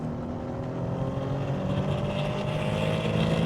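Renault Alpine A310 engine pulling through tight S-bend corners, a steady, fairly loud mechanical drone with gently rising revs heard from inside the car, no one speaking.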